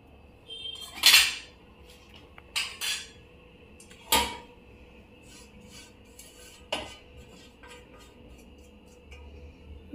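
A metal plate being shaken and knocked over a pot while making modak for Ganpati, several separate sharp metallic clanks and rattles spaced over a few seconds in a quiet kitchen.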